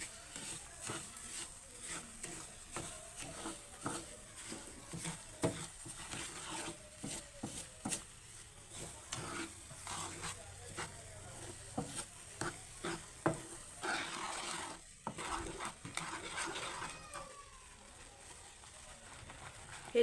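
Amla and sugar stirred in a pan, a spoon scraping and clattering in steady irregular strokes over a soft sizzle, close and continuous.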